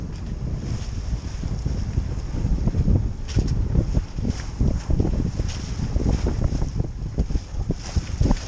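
Dufour 3800 sailboat motoring under engine at sea, a low rumbling drone with water slapping the hull and gusty wind noise on the microphone, steady and close throughout.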